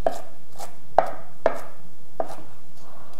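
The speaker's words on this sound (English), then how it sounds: "I'm just gonna give that a good chop" Knife chopping a handful of frittata ingredients on a cutting board: four or five sharp, evenly spaced knocks, close and clear with little else around.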